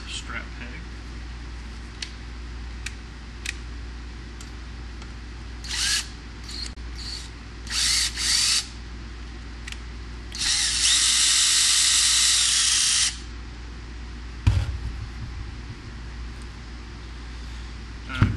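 A power drill or driver removes a strap peg from an electric guitar being disassembled, with short whirring bursts and one longer run, separated by quiet handling.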